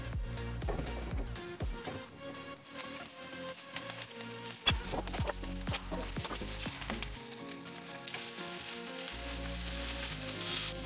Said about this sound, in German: Jetzt, wo das Olivenöl heiß ist, geben wir den Spargel dazu und braten ihn ca.